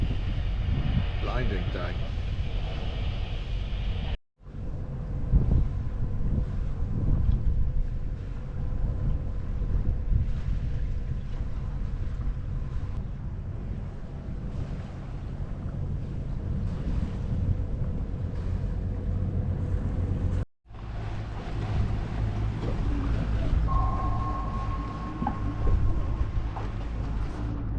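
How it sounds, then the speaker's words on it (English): A sailboat running downwind off Norway, with wind buffeting the microphone and water rushing along the hull in a steady, close roar. Someone speaks briefly over it, and two short cuts break the sound. "the last few hours I've been sailing downwind"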